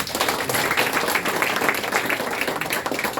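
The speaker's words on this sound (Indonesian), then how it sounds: "Bersama kemudian tepuk tangan buat kita semua." Steady, dense applause from a seminar audience at an event, a continuous wash of many hands clapping throughout with no pauses.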